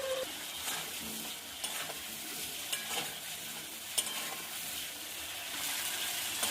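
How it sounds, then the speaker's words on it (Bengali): Potatoes fry in a pan with turmeric and salt, a steady soft sizzle broken by scraping stirs of a spoon. No one speaks. "আলুটা ভালো করে ভেজে নেব।"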